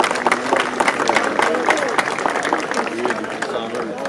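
Audience applause welcoming a guest at the pepper festival in Donja Lokošnica, dense clapping with crowd murmur running steadily throughout.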